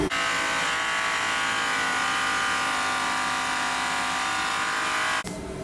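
Rotary polisher coloring a 22.5-inch semi truck wheel with compound on the trailer, a steady loud high whir running unbroken for about five seconds before cutting off abruptly near the end.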